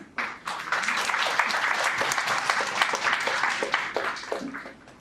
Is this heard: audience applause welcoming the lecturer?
yes